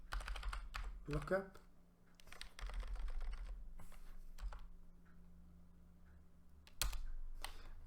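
Router commands typed on a computer keyboard, bursts of close, crisp key clicks with pauses between them and someone talking over parts of it.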